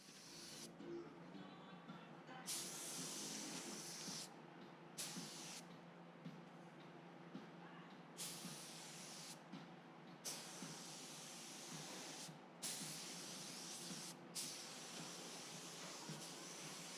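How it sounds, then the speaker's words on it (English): A paint spray gun lays heavy white basecoat on a Daihatsu mini truck in a body shop, with a loud airy hiss in repeated bursts of one to four seconds separated by short pauses, close and continuous. "I'm spraying pretty heavy because I just want to cover"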